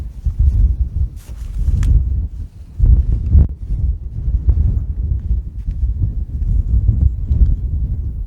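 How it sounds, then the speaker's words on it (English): Wind at a windy, rainy church overlook at daybreak: low rumbling gusts buffeting the microphone in uneven surges, loud and close, with no talk. "just in case the wind decides not to cooperate this morning and blow me away"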